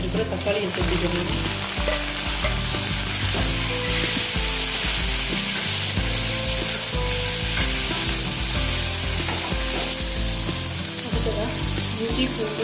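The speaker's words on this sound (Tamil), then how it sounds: "இந்த டைமில் நறுக்கி வச்சுருக்கிற தக்காளியை சேர்த்துக்கணும்." Chopped tomatoes sizzle and fry with softened onions in a pan for a Tamil-style chicken curry, a steady, loud crackle with stirring noises throughout and no talking.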